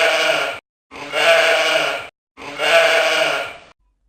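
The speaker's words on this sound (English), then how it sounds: "I tried to teach Snowy the sheep to sing. She looked at me and went baa." A sheep bleats three times in a row, each a long wavering baa lasting over a second with short silences between, loud and close with nothing else around.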